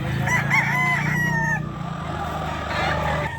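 Roosters brought to a pet market in Bocaue crow loudly and close, one drawn-out cock-a-doodle-doo followed by another call, over a low background murmur.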